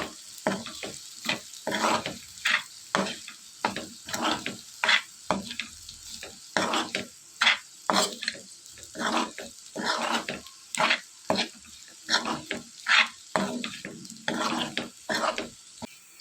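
Chicken liver with chilli powder and chicken masala is stirred and fried in a pan, with repeated close scraping strokes in an uneven rhythm over a soft sizzle and no voices.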